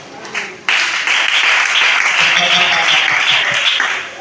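A church congregation bursts into sustained, dense applause after a sudden start, loud and steady for several seconds before easing slightly, with a few voices rising faintly beneath the clapping.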